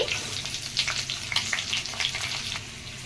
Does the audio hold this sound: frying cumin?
yes